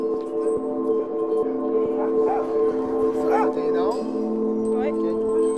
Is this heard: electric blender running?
no